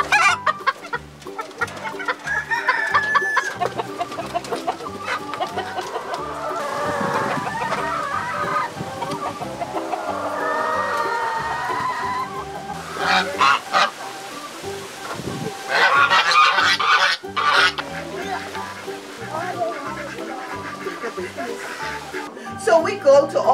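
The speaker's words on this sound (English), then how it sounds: "in here we have chicken, duck, peacock, geese, and the quail eggs as you saw" Caged chickens and geese on a Bahamian farm cluck and honk through a long stretch, with bursts of squawking rising and falling while people talk over the birds nearby.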